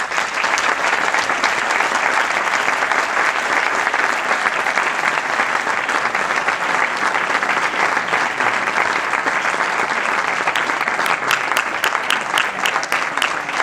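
Sustained applause from a large audience at an awards ceremony, dense and steady throughout, with scattered individual claps standing out near the end.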